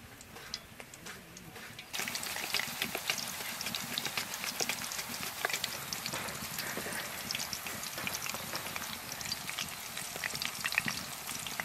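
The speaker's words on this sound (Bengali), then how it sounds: "কলাটা ছাল ছাড়িয়ে তেলের উপর দিয়ে দিতে হবে" Peeled banana slices frying in hot oil for homemade banana chips, a dense, loud crackling sizzle that starts softer and then surges to a steady, busy bubbling roar, with no talking.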